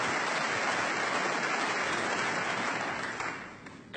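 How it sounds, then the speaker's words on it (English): A snooker crowd applauds a shot, dense sustained clapping that holds steady and then tapers off toward the end, with no talking over it. "Crowd appreciating that shot."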